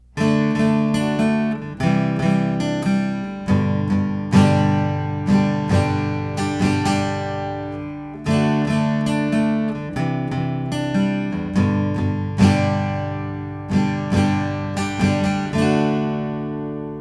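An acoustic guitar strums a down-down-down-down-up-up-down-up pattern, an easy beginner version, with bright steady chord strokes repeating evenly for about seventeen seconds, close and alone.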